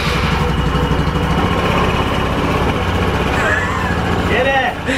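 A small scooter engine runs loudly and steadily just after a roadside repair on a long-distance scooter trip to Kazakhstan, a continuous close buzz with a brief voice-like sound near the end.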